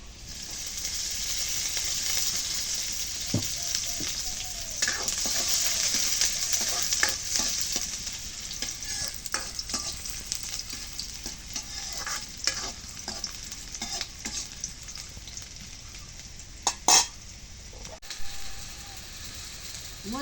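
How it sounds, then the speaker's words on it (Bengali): Chili powder and turmeric fry in hot oil for a potato and pointed gourd curry, a loud steady sizzle running throughout with scattered scraping strokes of a spoon. "মরিচের গুড়া ওই যে তেলা মধ্যে দিলাম হলুদের দিলাম"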